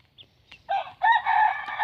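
A rooster crows loudly and close by, a short lead-in note followed by a long, strained, harmonic call that holds steady to the end, with no talking.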